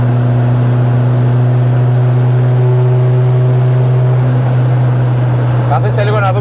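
A row of cars from a night-time Elite100 group drive drones steadily with loud, sustained engine hum, with an accelerating whine rising near the end and people talking over it.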